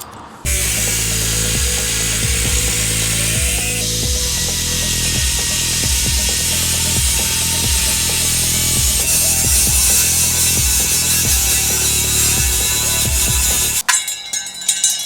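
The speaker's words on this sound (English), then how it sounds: "How'd you feel using an angle grinder?" An angle grinder runs loudly and steadily on metal for a long stretch during a crashed Mazda MX-5 rebuild, a harsh high whine with shifting pitch, then cuts off abruptly.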